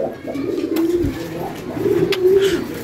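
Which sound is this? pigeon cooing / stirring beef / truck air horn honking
pigeon cooing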